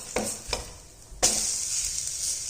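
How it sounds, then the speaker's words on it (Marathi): Gram flour pancake sizzles softly after being flipped in a pan with little oil, with a few spatula taps and then a steady low frying hiss. "तर खालची साईड पण आता अशी चांगली लालसर होईपर्यंत आपण भाजून घेणार आहोत"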